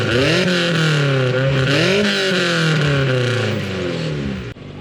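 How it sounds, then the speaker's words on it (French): A Toyota MR2 sports car engine with a 1990s character revs hard and continuously, its pitch climbing and falling in repeated loud, close sweeps, then cuts off abruptly near the end. "jusqu'au bruit du moteur, on a cet esprit années 90"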